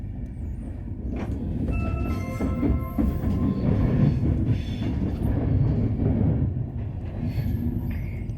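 Steady low rumble of a passenger train running on rails, heard from inside a carriage, with faint tonal squeals and clicks over the constant roar and no talking.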